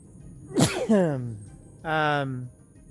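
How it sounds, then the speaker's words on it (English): A single loud, close sneeze bursts out, followed by a drawn-out voiced sound afterward. "And I'm about to sneeze, sorry."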